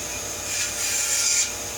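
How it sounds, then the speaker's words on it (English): Short stretch of hand-sawing through a wooden dowel for an old chair repair, a close, steady rasping stroke of moderate loudness without pauses. "And we're just going to go ahead and cut two dowels."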